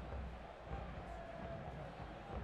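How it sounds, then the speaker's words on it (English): A stadium crowd at a professional soccer match murmurs restlessly while waiting, a low, distant, steady rumble of many voices with no distinct cheers. "Crowd anxious and waiting."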